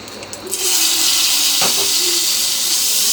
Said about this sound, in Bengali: সামান্য একটু ভেজে নিব